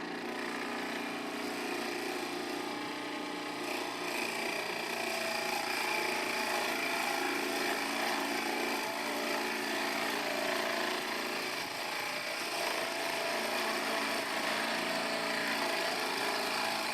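Continuous whirring of a drill press boring through wood with a spade bit, a steady close-up drone with faint scraping texture and no speech.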